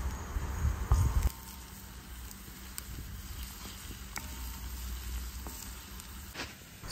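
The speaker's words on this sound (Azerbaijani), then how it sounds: "Yağ qızdıqdan sonra üzərinə soğanı əlavə edirəm və rəngi dəyişənə qədər qovururam." Onion sizzling and frying in hot oil in a pan, a steady soft crackle throughout after a brief louder clatter and stir near the start, no talking.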